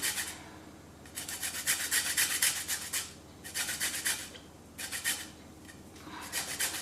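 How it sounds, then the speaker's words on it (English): Citrus peel being zested, with bursts of fine scraping that rasp back and forth in several close, strong strokes separated by short pauses, and no talking. "you just want to be taking off just the outside of the peel"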